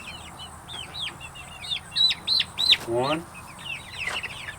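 Chicken pullets on a farm, just moved from the coop onto grass, give a run of soft, repeated clucks and chirps close by, with a brief spoken word heard among them.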